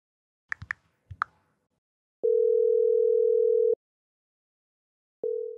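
A phone call connects with a few soft clicks, then a long steady electronic ringback tone sounds, followed after a pause by the start of a second tone, all in otherwise quiet surroundings.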